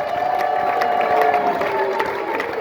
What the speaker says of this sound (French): est-ce qu'on peut applaudir pour Maman Posso?